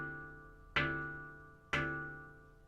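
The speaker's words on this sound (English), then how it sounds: "using the edge of my middle finger knuckle and knocking on the interstitial area to get" Two separate knuckle knocks land on the interstitial area between the tongues of an SPb Kurd 9 steel tongue drum, each a crisp close strike followed by a long, sustained metallic ring that slowly decays.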